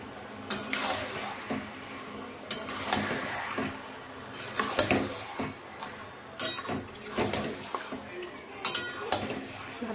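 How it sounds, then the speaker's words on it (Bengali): A spoon scrapes and clanks around a pot of mutton being mixed with ground cumin and spices, repeated metallic scrapes and knocks over a low steady sizzle, close and moderately loud. "ভালো করে মিশিয়ে নিয়েছি"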